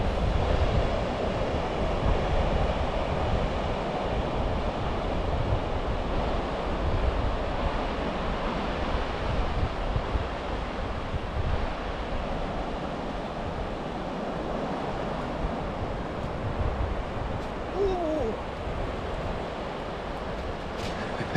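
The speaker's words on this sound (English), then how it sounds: "Beach life, Ken." Cold-weather beach surf rolls in steadily under gusting wind that buffets the microphone, a dense continuous wash with no voices.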